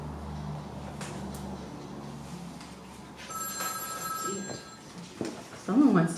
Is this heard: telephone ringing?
yes